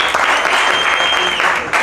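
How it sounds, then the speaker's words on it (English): Loud, dense round of applause from a seminar audience at a bar academy event in Johannesburg, steady clapping filling the room without a break before tapering slightly at the end. "can we give a big round of applause to DBA?"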